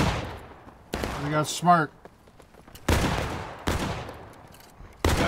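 Loud musket-style shots from War of Rights, a Civil War-era shooter, crack out one by one, close and echoing, with several separate reports. Someone speaks briefly between the blasts.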